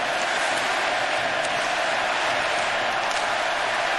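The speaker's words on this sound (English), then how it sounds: "now the Czech crowd's back into it" Czech fans roar and cheer in an arena at a Germany versus Czech Republic junior world championship ice hockey game, a dense, steady wall of crowd noise throughout.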